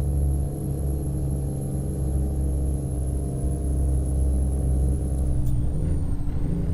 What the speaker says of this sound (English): You probably hear the truck a bit better now.